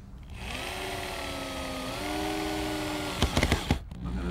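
A power drill drives 2.5-inch rust-proof screws into wood in a workshop setting, a sustained whining motor hum that shifts pitch midway, then a few short bursts near the end.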